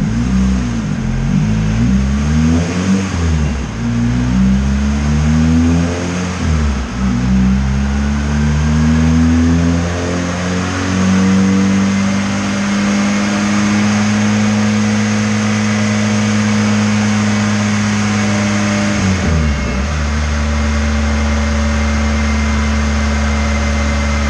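On a dyno, a turbocharged Honda Integra engine roars loudly and close, its pitch climbing and dipping through repeated revs before a long sustained high-rpm pull and a brief lift, with no talking.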